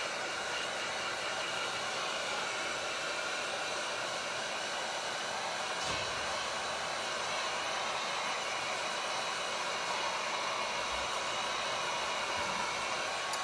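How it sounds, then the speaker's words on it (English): Hot air heat gun drying paint on a small Dollar Tree wooden birdhouse, a steady loud whooshing blower roar held at constant level throughout with no speech. "hopefully it'll dry quick too with this different hot air gun"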